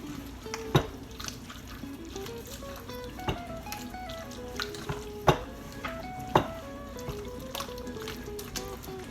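Chicken casserole ingredients being mixed in a casserole dish, with wet scraping stirs and clinks of a utensil against the dish, several sharper taps at irregular intervals, close and fairly quiet.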